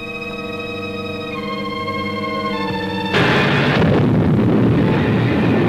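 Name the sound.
explosion of the orbit jet, radio drama sound effect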